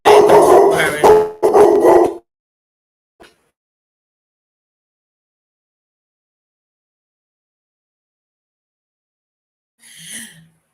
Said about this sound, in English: I don't even know what you're barking at.